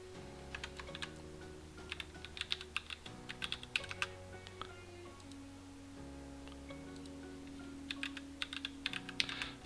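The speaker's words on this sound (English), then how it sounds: "We go back and we've got some stuff to type there." Steady typing on a computer keyboard, quick clustered keystrokes in bursts over a low sustained musical hum, close and moderately quiet.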